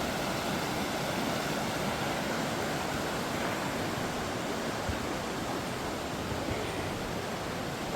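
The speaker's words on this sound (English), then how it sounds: "There's some seriously nice little waterfalls along here." Small waterfalls along a stream in Wales give off a steady, even rush of falling water that fills the whole scene at low volume.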